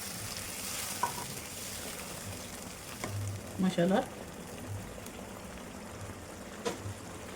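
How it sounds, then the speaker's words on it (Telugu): A cup of water goes into a sizzling ridge gourd, dried prawn and egg curry, the frying hiss giving way to a brief splash and bubbling around the middle, with a voice speaking briefly. "ఇప్పుడు 1 కప్పు వాటర్ వేసుకుందాం"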